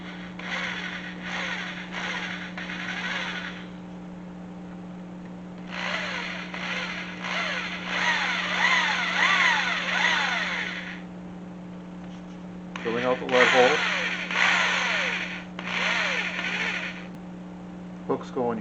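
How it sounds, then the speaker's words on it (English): A power drill bores a lead hole through a cedar wood crankbait lure with a small bit, in several whining bursts separated by pauses, over a steady electrical hum. "Get this drilled out for our lead hole."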